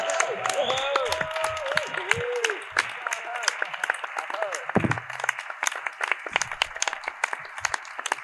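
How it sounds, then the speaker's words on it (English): Crowd at a Power Morphicon 2022 fan convention applauding and cheering in a standing ovation for the Mighty Morphin Alien Rangers cast, dense clapping and shouts throughout, with a few voices calling out above the noise. "I would like you to give not only a round of applause, but I would like to give a standing ovation to all of the Alien Rangers."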